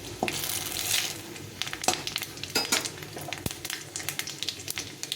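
Whole spices — dried red chilli, cumin seeds, garam masala, cinnamon and bay leaf — sizzle and crackle steadily in hot oil, with sharp pops and occasional scraping stirs close up, no talk.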